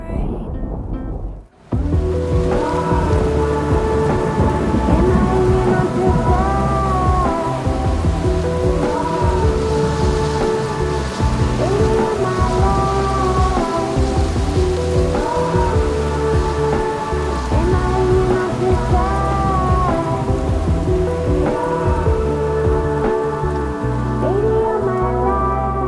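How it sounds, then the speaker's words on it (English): Heavy rain pouring steadily on a mountaintop during a thunderstorm, a loud continuous wash of drops that starts abruptly and stays dense throughout. "it started getting really cloudy and a storm started rolling in"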